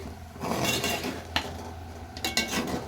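A metal spoon stirs tomato masala in a pan for chicken fry. Dull scraping is broken by a few sharp clinks against the vessel, close by with no talking.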